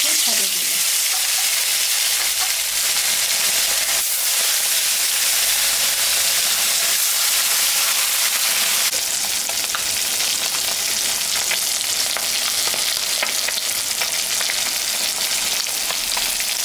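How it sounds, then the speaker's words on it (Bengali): Raikhor fish fry in hot mustard oil in a wok, giving a loud, unbroken crackling sizzle with stirring, close up and with no talking. "এখন আমি মাছ ভাজার জন্য সর্ষের তেল দেব মাছে লবণ দিয়ে দিলাম হলুদও দিয়ে দিলাম"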